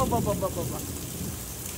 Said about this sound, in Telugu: అదిగోండి వర్షం మాత్రం మామూలుగా పడట్లేదు, బేభత్సంగా పడుతుంది